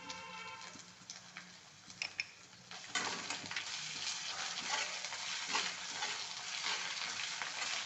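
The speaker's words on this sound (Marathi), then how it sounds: "नंतर खोबरे टाकू चांगलं मिक्स करू नंतर हिरवी मिरची टाकू" Grated coconut and green chilies stirred in a hot pan make a soft, steady sizzle with intermittent spoon scrapes and taps, the frying growing louder partway through, close-up and quiet, with no voices.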